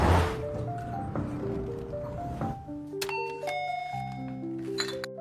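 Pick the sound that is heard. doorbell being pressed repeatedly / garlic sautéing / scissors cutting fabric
doorbell being pressed repeatedly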